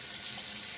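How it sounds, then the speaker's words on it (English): Tap water runs in a steady, hissing stream into a sink being filled to wash a mask, close and continuous for under a second. "And I'm going to fill it up with water."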